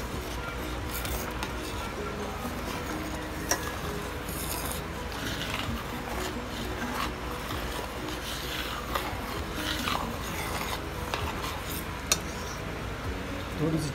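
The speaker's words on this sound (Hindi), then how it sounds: "stir it thoroughly" Rice kheer with condensed milk and palkova is stirred in a metal pot, a spoon scraping and rubbing against the pan with occasional clinks, steady and close.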